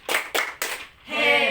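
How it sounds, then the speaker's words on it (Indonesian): A group gives three sharp, evenly spaced rhythmic claps as a cheer. A voice follows right after the last clap. "Kita tepuk hebat untuk kelompok 3."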